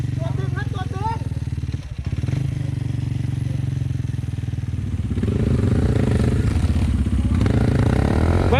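A motorcycle engine rumbles and revs loudly close by on a stormy-day trip to eat in the forest. Voices call out over it and the engine noise swells in the second half.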